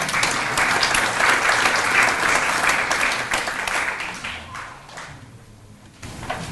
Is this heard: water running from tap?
no